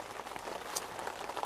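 Steady rain patters on a FORCEATT two-person dome tent, forming a dense, even hiss of drops with no voices.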